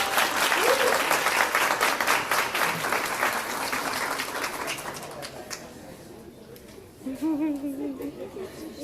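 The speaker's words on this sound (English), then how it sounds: "Give him a nice round of applause." Loud applause from an audience at a ribbon-cutting ceremony for an early childhood center, dense clapping that gradually thins and fades, with bird coos nearby and a voice starting to speak at the end.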